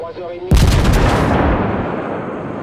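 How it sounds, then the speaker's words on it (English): Battleship gunfire in World of Warships, naval combat with a Dunkerque: a sudden loud heavy boom of a salvo, then a long rumbling roar that slowly fades, close and with no talk. "Shots just going everywhere."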